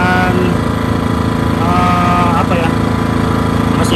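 A Hyundai HDG 2880 petrol generator runs steadily close by in economy mode, its engine hum loud and continuous, with a faint higher whine sliding over the drone.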